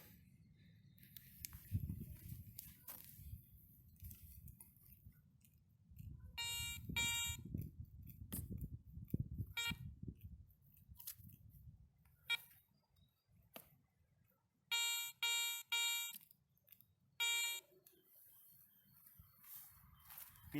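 A Garrett 400i metal detector giving a borderline signal from a coin 15 cm deep in soil, short, quiet bursts of high beeping that come only every few sweeps, between low scraping and sweeping noises close by.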